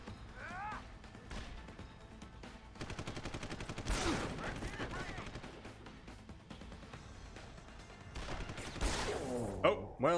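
Rapid bursts of enemy gunfire in Deus Ex: Human Revolution, with repeated volleys cracking through the clip amid shuffling and impact noises and a sharp hit near the end.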